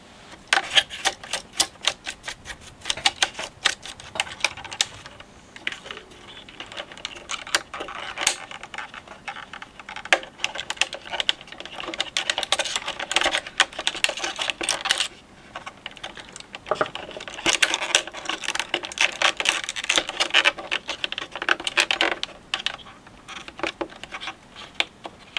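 Rapid clicking of the push buttons on a Technics SL1210 turntable, with dense irregular bursts of sharp, close taps continuing throughout and no talking.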